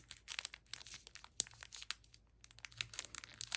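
Crinkling and tearing of stiff plastic doll packaging in quick irregular bursts as it is pried apart, close by and fairly quiet.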